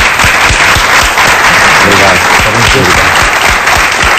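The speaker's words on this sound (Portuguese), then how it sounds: "Um grande aplauso." Studio audience applause on a television talk show, loud dense clapping filling the scene with a brief spoken word of thanks over it.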